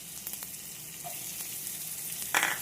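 Chopped onions go into garlic already frying in hot oil in a home kitchen, giving a soft, steady sizzle with a brief louder crackle near the end.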